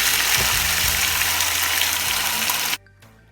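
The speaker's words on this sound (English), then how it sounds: "So I added some oil to my cast iron, and and then I added the mutton" Mutton searing in oil in a hot cast iron pot: loud, dense, steady sizzling that stops abruptly near the end, leaving a faint low hum.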